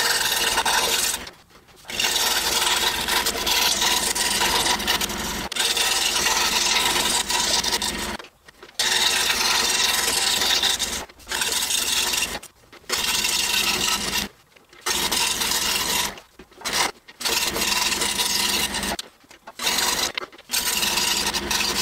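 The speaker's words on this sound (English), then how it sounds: "And with a number 2 reverse tooth blade, we're just going to cut out this entire saying on our hardboard." Scroll saw fitted with a number 2 reverse tooth blade cutting a lettered saying out of hardboard, a loud continuous buzzing rasp that stops and restarts several times in short bursts, close up with no talking.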